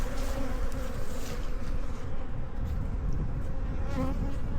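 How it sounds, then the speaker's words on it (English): Honey bees buzz around an open hive whose colony is flighty but not stinging, a steady, close, continuous hum that stays level throughout with no voices. "They are not in a great mood, this hive. They're flighty, they're not stingy."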